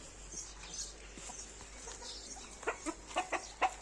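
Chickens and a rooster cluck in short bursts at a Turkish-speaking rooster keeper's yard, faint at first and then a quick run of louder, nearer clucks toward the end.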